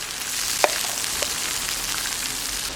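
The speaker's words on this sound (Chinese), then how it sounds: "倒油、姜、蒜、辣椒爆香，豆瓣酱" Ginger, garlic, chili and bean paste sizzling in hot oil in a wok for stir-fried river snails, a continuous near crackle broken by a couple of sharp pops and utensil clicks.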